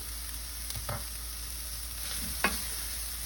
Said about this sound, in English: This is the bell pepper, the onion, and the celery. Just wilt it down a little bit.